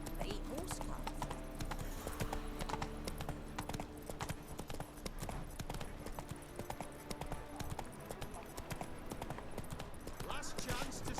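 Hooves of Roach, a horse in The Witcher 3: Wild Hunt, clip-clop steadily in a quick galloping rhythm throughout, close and prominent amid game music and ambience, with a brief whinny and speech heard over it.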